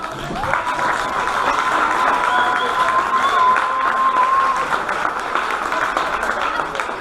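A crowd at a lightsaber fencing show with celebrities gives steady, dense applause that holds evenly for the whole stretch, loud and close, with a few voices blending into the clapping.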